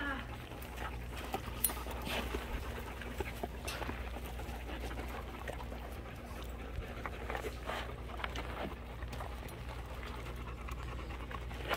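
A dog pants steadily and quietly through a low, continuous background hum, with faint rustles and soft clicks around it.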